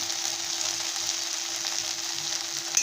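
Okra bhaji with tomato, turmeric and salt sizzles steadily in a pan as it is stirred, a continuous close frying hiss with soft scraping underneath and no talking.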